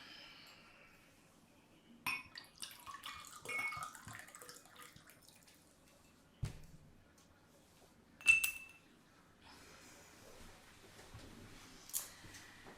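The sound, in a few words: pouring water into a glass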